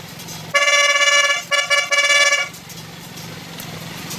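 A yellow aftermarket horn on a Honda ADV 160 scooter, wired through a relay, sounds loud and close in one long honk, then two short toots and another sustained blast, all with a bright, buzzy tone.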